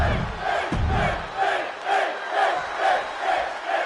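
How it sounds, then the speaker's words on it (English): A wrestling arena crowd in the WWE 2K25 video game roars and chants in rhythmic waves, loud and continuous, as a wrestler makes his entrance. "This crowd is excited for this one as it's go time."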